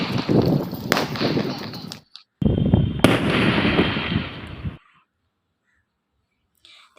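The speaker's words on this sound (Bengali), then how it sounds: "এই দেখো বাজি পোড়ানো শুরু হয়ে গেছে" Fireworks are set off at night on the eve of the Dol festival, a dense crackling barrage with loud bangs for a few seconds, a brief gap, another crackling burst, then near silence.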